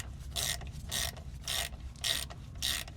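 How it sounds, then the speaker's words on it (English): A 3/8 ratchet clicking in five short, evenly spaced bursts while undoing a power steering pump connector on an R50/R52/R53 Mini during a suspension bush job; close, crisp ratcheting over a low background hum. "I'm using a 3/8 ratchet for this one because of space."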